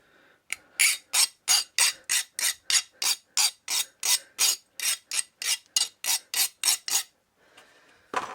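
Metal file taking the burr off a metal tube, about twenty loud, evenly spaced rasping strokes in a steady rhythm, close up, followed by a short pause and one last scrape.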